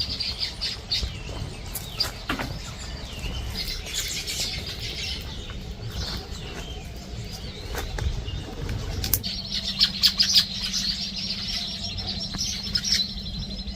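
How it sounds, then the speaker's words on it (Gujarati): Many house sparrows chirp busily nearby with fluttering wing flaps, a continuous bright twittering chorus. "આ બધી ચકલી છે ને"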